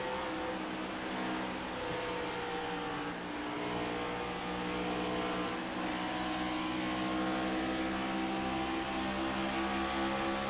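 A race car engine in iRacing, a Cup Series car at Charlotte, drones steadily and loudly throughout, with sustained high-revving tones and slight shifts in pitch as the throttle eases.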